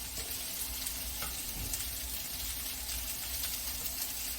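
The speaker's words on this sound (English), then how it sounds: "we're going to just let this flour cook on here a little bit" Flour cooks in a pan of hamburger gravy while being stirred, giving a steady, close frying sizzle with faint scraping throughout and no talking.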